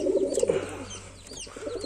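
A Lotan pigeon coos close by in soft, rounded, throaty calls, a burst at the start and another toward the end, with faint chirps in the background and no speech.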